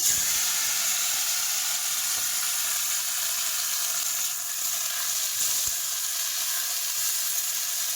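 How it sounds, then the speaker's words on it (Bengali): Loud, steady sizzling of fish frying in hot oil in a wok, a continuous crackling hiss with no voices. "মা কিন্তু সেই মাছ ভাজা করে দিয়েছে কড়াই তেল গরম হয়ে গেছে"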